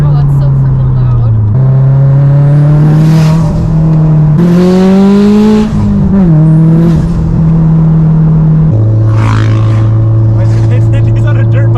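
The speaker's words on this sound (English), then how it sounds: "He's on a dirt bike." Dirt bike engine on the road heard from inside a car, a loud buzzing tone that holds, rises and shifts pitch over the car's own engine and road noise, with people talking throughout.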